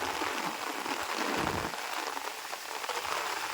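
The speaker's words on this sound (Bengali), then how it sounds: "তুমুল হারে বৃষ্টি চলতেছে একটানা।" Heavy continuous rain pours in a steady, even wash of noise, close and unbroken throughout, with no voices.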